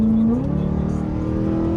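An abandoned BMW M3 engine revs while driving, a loud, steady drone from inside the car whose pitch climbs smoothly before holding high.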